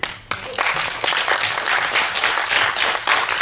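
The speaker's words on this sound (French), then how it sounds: "Donc on va passer au deuxième, on les applaudit." An audience at a manga festival drawing contest applauding, sustained dense clapping from a crowd that holds steady for several seconds after a brief opening swell.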